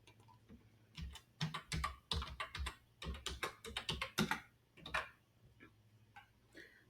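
Fingers type an email address and password on a computer keyboard in quick, irregular bursts of crisp, close clicks, then a few sparse taps as it trails off.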